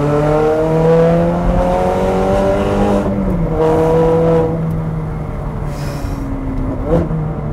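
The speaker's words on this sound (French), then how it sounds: "cet échappement Capristo. V8 atmosphérique" A naturally aspirated V8 in a Ferrari 430 Scuderia with a Capristo exhaust sings loud and close, its pitch holding high and then easing down in a long smooth sweep, with a brief blip near the end and no talk.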